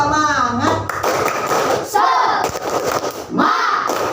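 Schoolchildren in an Indonesian classroom perform the tepuk semangat clapping chant, loud rhythmic claps mixed with shouted group voices and a teacher leading in turns.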